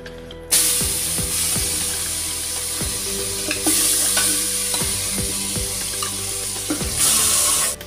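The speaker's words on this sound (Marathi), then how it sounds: "आता हे जे चिकन आहे ते आपण कुकरमध्ये टाकून घेऊ." Marinated village chicken sizzles in a pressure cooker as a spoon scrapes and stirs it, with repeated sharp metal strokes over a constant loud frying hiss.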